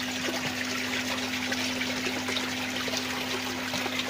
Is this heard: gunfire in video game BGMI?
no